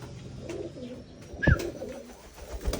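Pigeons coo close by during recall training, a soft throaty call rising and falling over faint background noise, with one brief louder flutter or thump midway.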